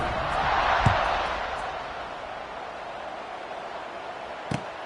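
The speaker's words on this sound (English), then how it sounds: "They're set to kick it off, and this crowd now ready to get behind them" A large football stadium crowd roars steadily before the kickoff, a broad continuous wash of cheering with a couple of sharp knocks standing out, and no talk over it.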